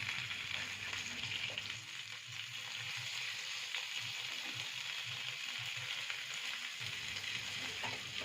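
A paste of onion, ginger, garlic, cashew and raisin sautéing in a pan for rui fish korma, a steady, fairly faint sizzle with soft rhythmic stirring scrapes underneath.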